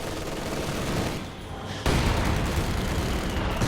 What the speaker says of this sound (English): you can see just the artillery the Russians are shooting at against these guys here